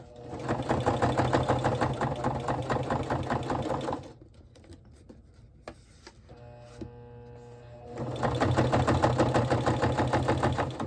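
A sewing machine stitches through a thick, scrappy fabric flip flop journal base in two loud, steady runs of fast mechanical chatter, separated by a quieter stretch of handling noises and a few clicks.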